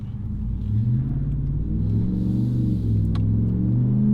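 A Ram 1500 pickup with a 5.7 Hemi V8 and MBRP exhaust pulls onto a highway, its deep exhaust rumble rising steadily as it accelerates, loud and continuous from inside the cab with no talk.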